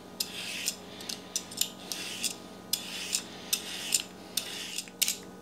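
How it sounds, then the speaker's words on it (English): Repeated quick scraping strokes, about a dozen in a steady irregular rhythm, close and crisp, a peeler drawn along cucumbers, with no talking. "We're going to start by just peeling our cucumbers"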